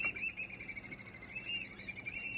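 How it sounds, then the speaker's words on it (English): Birds chirp steadily by a Desolation Sound shoreline in Canada, a thin, high, continuous twittering with repeated call notes, moderately close and fairly quiet, with no talking. "Why do birds creep me out?"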